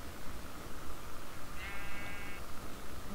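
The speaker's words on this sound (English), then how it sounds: "it's a lot of sheep, lots and lots of sheep" A sheep in a Minecraft-style block game gives one short bleat that rises above steady, noisy outdoor ambience with a crackling campfire, heard alone without talking.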